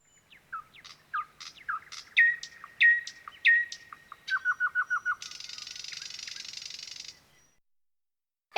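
A nightingale sings in a bird cartoon, delivering clear whistled phrases and rapid repeated chirps, then a long buzzing trill, close and distinct against near silence before a sharp click at the end.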